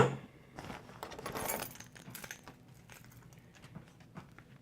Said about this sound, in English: Keys to my truck.